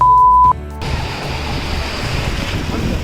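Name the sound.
ocean waves surging on the beach at Goa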